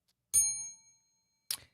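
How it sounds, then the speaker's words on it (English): A bright bell ding rings out and decays slowly over about half a second, followed a moment later by a shorter, duller second strike. "Got a bell ring for that one."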